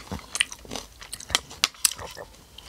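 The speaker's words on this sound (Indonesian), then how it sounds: "Kacang atomnya masih kriuk-kriuk." Close-up chewing of crunchy coated peanuts mixed into bakso aci with cartilage, a series of irregular crisp bites and crunches with no talking.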